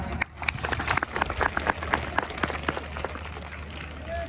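A crowd at a school annual function claps and applauds steadily for several seconds, a dense patter of hands that holds at a moderate level.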